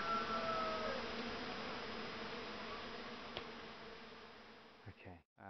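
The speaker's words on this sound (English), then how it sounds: "the bees love it obviously" Steady buzzing of bees hovering close by on flowers along the Lycian Way in Turkey, a continuous insect drone that runs throughout before cutting off near the end.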